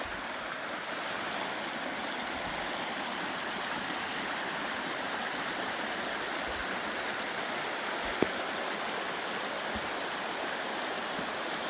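Small mountain creek flowing past a campsite, a steady, even rush and gurgle of water close by, constant throughout with no voices, one brief click partway through.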